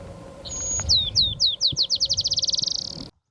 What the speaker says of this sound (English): a black-chinned sparrow decided to perch and sing for us and serenade us